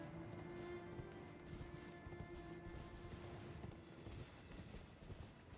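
A horse gallops in Elden Ring: Shadow of the Erdtree, its hooves beating a fast, steady clip-clop over a low ambient hum, moderately close and fairly quiet throughout.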